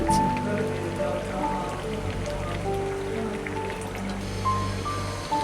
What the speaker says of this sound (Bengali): বলক এসে পড়েছে।